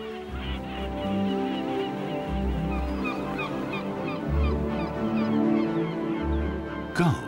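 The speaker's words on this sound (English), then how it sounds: "Gulls always know where they can find something edible." Gulls on a green northern Spanish coastline call in a busy chorus of honking, squawking cries, some close and some farther off, over a low background rumble.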